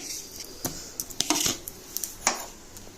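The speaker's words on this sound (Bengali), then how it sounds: "এখন আমি ডালটাকে বেটে নেব" Soaked red lentils (masoor dal) are ground into a paste, giving a series of irregular taps, clicks and short wet scrapes at close range. No one speaks.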